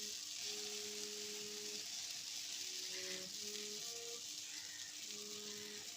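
Flatbread roasting in an oiled pan, a steady soft sizzle running throughout, faint and even, with light tonal clinks and hums from the kitchen in the background.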